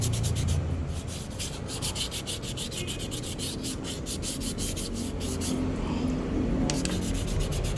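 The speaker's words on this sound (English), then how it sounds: "So first we sand this one with a 400 grit and then 1000 grit." A worn exhaust cover is being rubbed by hand with 400 grit sandpaper, making a steady, continuous scratchy sanding sound close up with no real pauses.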